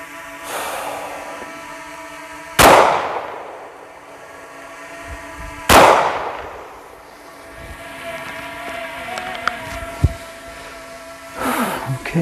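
Two loud pistol gunshots fired at a 5-yard shooting drill, sharp cracks a few seconds apart, then quieter handling clicks and faint rustle with a third shot-like burst at the end.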